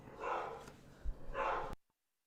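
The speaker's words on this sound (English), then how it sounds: "My dog's yelling crazy because of Amazon. He's freaking out." A dog barks at a delivery indoors, two muffled, loud bursts with a thump between them before an abrupt cut to silence.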